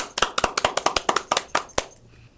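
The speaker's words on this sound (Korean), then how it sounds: "박수." One or two people clap at a steady, fairly quick rhythm for about two seconds, sharp distinct claps close by in a quiet room, congratulating a student on university admission before it trails off.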